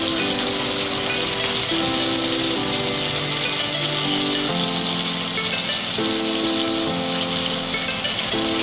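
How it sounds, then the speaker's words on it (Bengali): Prawns fry in a pan for a coconut prawn dish, giving a steady, loud sizzling hiss that runs throughout, with background music playing over it. "মাছগুলোর এক পাশে ভাজা হয়ে গিয়েছে, উল্টে অন্য পাশেও ভেজে নেব।"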